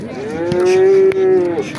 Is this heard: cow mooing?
yes